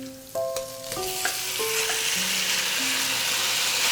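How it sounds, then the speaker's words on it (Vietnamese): Beef stir-fries in oil and garlic over high heat in a cast-iron pan, shaking beef style: a few metallic utensil clinks at the start, then a loud, continuous close sizzle. "Mình tăng lửa lớn và xào nhanh tay nha các bạn, để bò chín nhanh và bò sẽ không ra nước nha các bạn."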